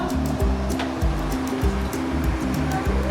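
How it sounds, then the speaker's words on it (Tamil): Water comes to a rolling boil for an herbal tea drink, a constant loud bubbling roar with a low, throbbing pulse underneath, heard on its own without talk. "தண்ணி நல்லா கொதிச்சிருச்சு"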